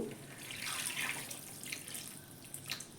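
Hot water pours into a pot of potatoes for a vegetarian cauliflower and potato dum, making a soft, steady splashing stream nearby with no speech.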